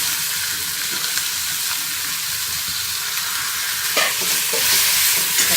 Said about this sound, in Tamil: தக்காளியும் நல்லா வதங்கணும்.